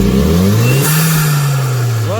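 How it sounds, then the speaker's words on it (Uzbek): The 3.3-litre V6 petrol engine of a Gazel van revs up close and loud, rising, holding, then dropping back, with a voice briefly audible over it. "Bitta gaz bos yana."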